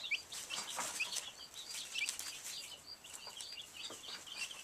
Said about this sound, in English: These were my first chicks ever, and I've had them for 5 days.